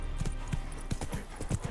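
A horse gallops in The Witcher 3: Wild Hunt, with rhythmic, thudding hoofbeats at a fast pace, close and prominent over a faint game backdrop.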